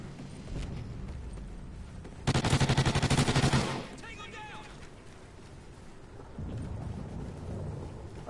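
Rapid automatic gunfire in Call of Duty, a dense burst of quick repeated shots lasting about a second and a half amid a noisy battlefield rumble, with voices talking around it.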